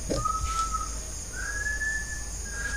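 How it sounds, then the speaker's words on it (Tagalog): Someone whistles in long, thin sustained notes, two separate tones with a short gap between them, over a steady background hiss. "Para may sumisipol talaga guys eh."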